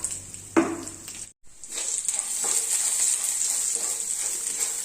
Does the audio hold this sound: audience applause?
no